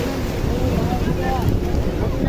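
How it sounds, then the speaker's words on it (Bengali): A speedboat races across the sea off Juhu Beach in Mumbai, its engine a constant roar blended with gusting sea wind buffeting the microphone, loud and unbroken. "সমুদ্রের হাওয়া আর এই স্পিড বোটের স্পিড, এই দুটো মিশে আওয়াজটা ভীষণ রকম কানে লাগছে।"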